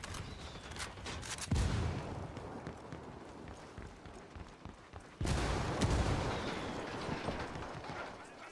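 A grenade blows up in the tactical shooter Ghost Recon Wildlands, with two heavy, booming blasts a few seconds apart over a rumbling battlefield backdrop.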